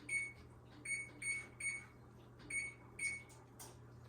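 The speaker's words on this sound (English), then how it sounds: "I'm going to set my oven for 450 degrees." Short electronic beeps from a kitchen oven control panel as it is set to 450 degrees, six or so evenly spaced chirps over a steady low appliance hum, close and fairly quiet.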